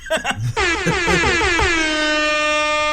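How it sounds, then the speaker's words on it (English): A loud, sustained air horn blast rings out for about two and a half seconds, preceded by a brief burst of voices and noise, with the steady harmonic blare dominating. "And an air horn for yourself."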